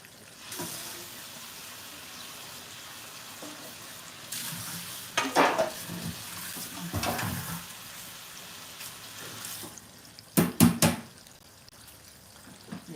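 Holy basil and kaffir lime leaves frying in a pan of oil, a low steady sizzle with bursts of louder crackling and spitting as leaves are stirred, plus some clattering in a home kitchen.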